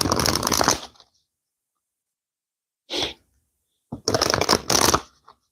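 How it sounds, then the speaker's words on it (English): A tarot card deck is shuffled in three close, crisp riffling bursts separated by silent pauses, with no voices. "One more shuffle."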